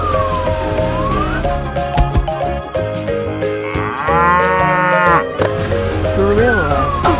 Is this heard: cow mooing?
yes